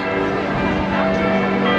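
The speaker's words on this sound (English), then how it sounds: "And those are the beautiful bells that you hear, so symphonic" Church bells ringing from the Basilica in Düsseldorf, a dense, continuous wash of overlapping chimes that sounds steady and loud throughout with no pauses.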